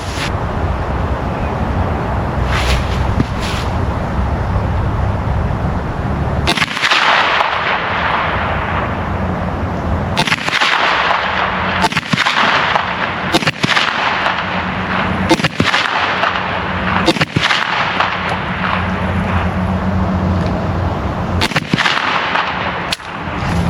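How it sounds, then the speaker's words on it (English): A Kel-Tec Sub2000 Gen 3 carbine fires Blazer Brass 115 grain ball ammo at 25 yards on an outdoor range, loud sharp shots spaced a few seconds apart over steady background noise, with no talking. "I'm back with my Blazer Brass 115 grain ball ammo. I'm going to shoot at 25 yards and see how accurate we are."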